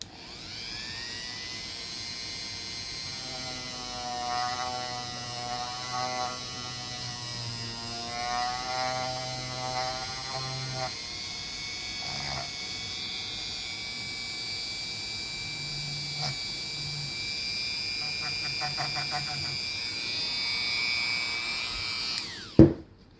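A Finnish M27 Mosin rifle part pressed against a spinning bench polishing wheel gives a steady high motor whine, with shifting grinding tones as the metal contacts the wheel, sustained for over twenty seconds and ending with a brief clunk.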